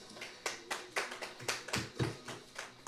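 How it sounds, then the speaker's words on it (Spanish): Scattered hand claps from a church congregation during a sermon, about ten uneven claps spread over a few seconds, moderately faint and somewhat reverberant, with no one talking. "denle un aplauso al Señor"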